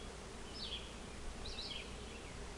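Honey bees drone in a steady, faint hum at an open beehive, with a few individual bees zipping close by in brief, higher buzzing passes.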